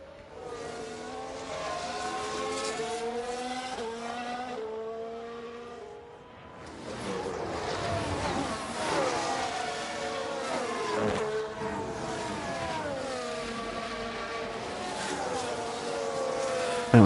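Formula 1 engines whining in F1 Manager 22, high rising and falling engine tones as cars pass, a brief dip then another car surging through, fairly loud and continuous.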